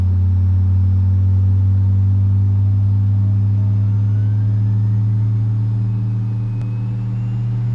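Aerosoft CRJ jet engines in a flight simulator settling at idle: a steady, loud low-pitched hum and rumble with a faint whine above, continuous throughout without talk.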